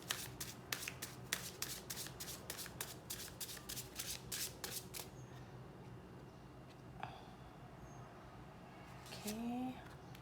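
Tarot cards being shuffled by hand in a quick, crisp series of riffling snaps and flutters over the first half, then quieter handling and faint scattered sounds, fairly close and moderately loud.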